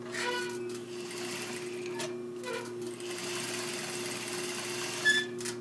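A sewing machine runs steadily while stitching a seam through fabric and interfacing, a faint, even mechanical whir with a steady hum, briefly pausing near the end.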